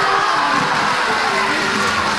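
Audience applause and cheering for a Yue opera actress at her solo stage show in a theatre, a steady dense wash of crowd noise that holds at a constant loud level.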